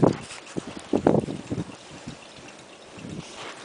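Air rushing from a large 32-inch fan with a Newman motor, heard from behind and beside the blades as a steady broadband wind noise with irregular gusty buffeting bursts against the microphone.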